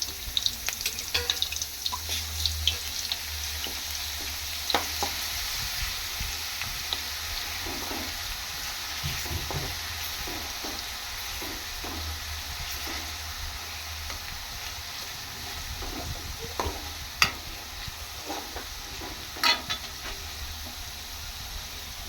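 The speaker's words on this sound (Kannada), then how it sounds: "ಎಣ್ಣೆ ಕಾದ್ಮೇಲೆ ಬೆಳ್ಳುಳ್ಳಿ ಹಾಕ್ತೀನಿ" Garlic paste hits heated oil in a pan while North Karnataka mango pickle is being made, giving a continuous close sizzle broken by scattered clinks and scrapes of stirring, with no talk.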